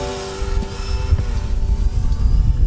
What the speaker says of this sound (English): Left rudder will make the plane go to the left as it points toward you.